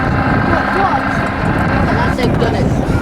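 A Belgian Air Force AW109 helicopter climbs during an air display at RAF Cosford, its engine and rotor a steady loud roar beneath a commentator's talk.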